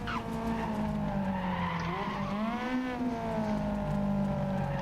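Tires screech in a long skid as a race car brakes hard in a driving video game, the squeal bending up and down in pitch over a steady engine drone, loud and close throughout.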